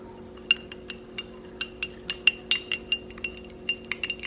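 A spoon clinks repeatedly against a glass while stirring a scoop of powder into cold water, a steady run of light, bright taps close by, no talk.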